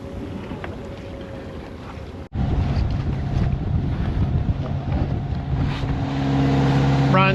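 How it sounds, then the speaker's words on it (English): Wind on a 1969 Alden 32 sailboat under sail in LA Harbor: steady loud buffeting rush across the microphone, quieter at first then jumping to a stronger gust after a brief dropout, with a faint low hum beneath. "So we got a little bit more wind."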